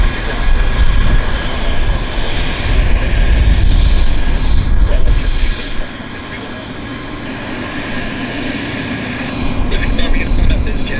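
An Air North Boeing 737-800 airliner at Vancouver Airport gives off a loud, steady, close jet roar that eases slightly midway and then swells again.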